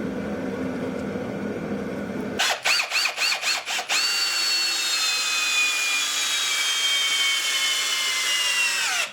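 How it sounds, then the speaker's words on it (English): A Ridgid brushless impact driver drives 8-inch lag bolts into wood: a short series of sharp hammering bursts, then a steady high-pitched whine that runs several seconds up close and loud. "now I'll attempt to sink in a couple 1/2 inch, 3/8 inch, 8-inch long leg bolts"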